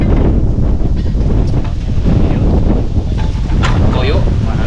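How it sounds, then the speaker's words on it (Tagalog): Strong gusts buffet the microphone beside a river, a steady loud low rumble filling the whole stretch with faint voices underneath. "Medyo mahangin lang dito guys."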